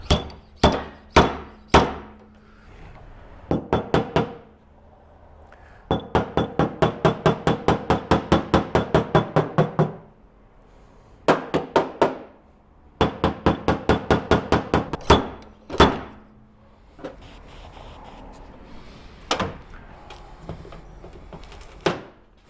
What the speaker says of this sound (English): I'm just going to slide hammer this.